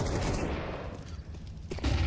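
Dense, continuous gunfire and grenade blasts from a professional Counter-Strike match, a loud rumbling barrage that runs throughout with no pauses.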